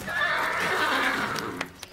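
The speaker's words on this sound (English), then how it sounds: "I told that young fella not to tie this horse up inside" A horse tied up indoors gives a long, loud neigh that fills nearly the whole stretch and trails off into a few soft thumps.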